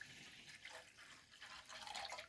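Water pours from a vessel into milk in a pan for masala tea, a faint, short splashing trickle lasting a couple of seconds, close by and quiet, with no talking.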